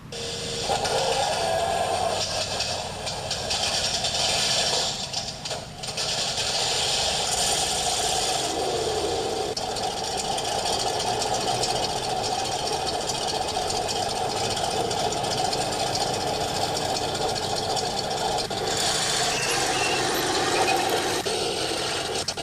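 An engine idles steadily after a cold start, a continuous, fairly loud mechanical drone with a faint knocking texture that runs almost unchanged throughout with no talk.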